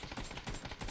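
Gunfire in the PUBG battle royale game, a dense run of rapid, sharp shots packed into one continuous second of loud, overlapping bursts.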